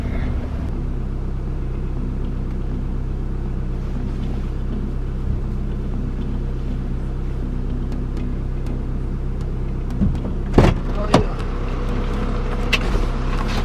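Car reversing out of a home parking spot where it often gets stuck, a steady low engine rumble held throughout, with a few brief louder knocks or scrapes near the end.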